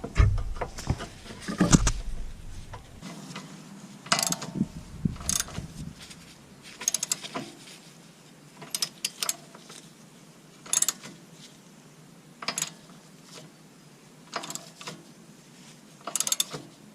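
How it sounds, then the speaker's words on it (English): Screw-type press tool forcing a seized axle bolt out of the suspension on a 1988-1991 fourth-generation Honda Civic, giving irregular clicks, ratcheting creaks and metallic knocks at close range, with no talking. "I'm going to press the this bolt out by turning the screw here."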